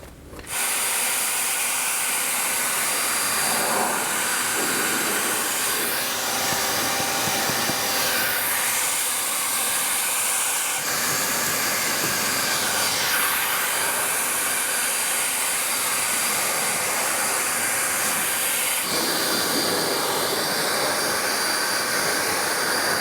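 Continuous loud blowing roar of an Ego battery leaf blower with its largest battery, running close up on an S2000, with the pitch and airflow shifting slightly as it sweeps.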